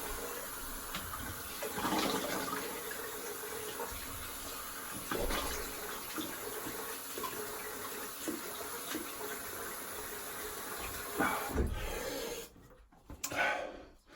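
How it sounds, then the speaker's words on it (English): Running tap water pours over a vintage open-comb safety razor being rinsed in a sink, a steady splashing stream with a few louder gushes and a brief clatter near the end. "Just gonna rinse."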